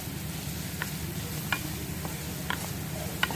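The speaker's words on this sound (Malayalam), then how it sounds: "അല്ലെങ്കിൽ സോട്ട് ചെയ്തെടുക്കുകയാണ്" Steamed idli pieces fried in butter with pepper powder, giving a steady close sizzle throughout, punctuated by a few faint scraping taps from stirring, with no talking.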